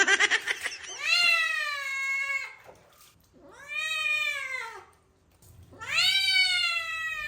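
A cat being bathed lets out three long, drawn-out yowls, loud and close, each rising and wavering for over a second, with splashing and rustling between them.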